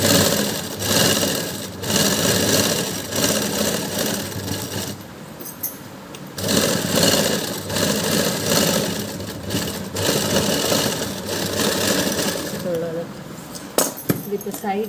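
A sewing machine stitches a blouse in bursts of rapid mechanical running, pausing briefly between runs, with a voice speaking over parts of it.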